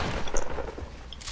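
Gunfire rings out in the Fortnite video game, a quick scatter of faint, sharp shots and bursts over a quiet background.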